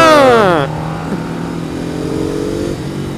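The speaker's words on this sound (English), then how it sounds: "Oh, Ducati." A Ducati motorcycle engine revs hard at close range, its pitch climbing sharply before dropping away into a lower, steady engine drone that continues to the end.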